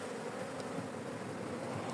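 Honeybees hum around an opened hive in a garden, a soft continuous buzz of many insects close by with no speech.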